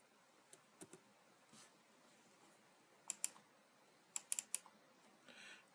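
Quiet clicking on a computer keyboard as a word is typed into game editor software, a few scattered key taps followed by a short quick burst of keystrokes, close but faint.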